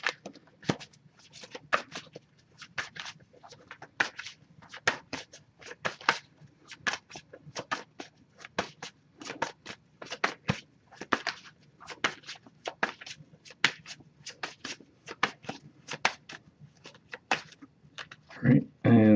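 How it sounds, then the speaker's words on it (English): A deck of tarot cards is shuffled by hand in quick, repeated riffling bursts, close and fairly soft, with brief pauses between handfuls over about twenty seconds. "if I shuffle for a while without anything coming up, I will split the deck down and pull cards that way"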